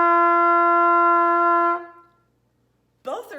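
A single sustained trumpet tone holds steady at a fairly high pitch for nearly two seconds, then fades out, followed by a brief voice.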